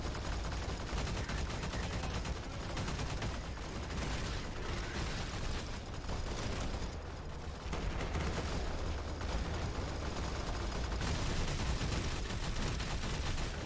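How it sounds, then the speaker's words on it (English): Dense, continuous gunfire in the military shooter Arma 3, a steady loud wash of rapid shots and mechanical clatter filling the whole stretch with no pauses and no voices. "Dear God, look at all that bullet fire."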